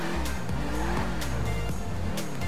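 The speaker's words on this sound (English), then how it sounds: "it actually sounds like a muscle car" A muscle car engine, the Grotti GT500 in GTA V Online, revs with a deep, throaty rumble that rises and falls through gear changes, loud and close, with brief tire squeals.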